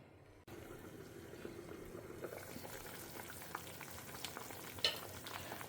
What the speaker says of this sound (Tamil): ஸோ இப்போ நல்லா கொதிக்க ஆரம்பிச்சிருக்கு.